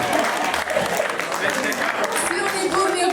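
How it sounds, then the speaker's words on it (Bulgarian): Sustained, loud applause from a concert audience at the end of a love-themed performance, dense and steady throughout with cheering mixed in and a voice talking over it toward the end. "Силни и бурни аплодисменти"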